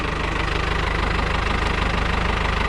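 A Tümosan tractor engine runs just after starting: a loud, close diesel idle with a steady, rapid knocking pulse that stays even and unbroken, with no voices over it.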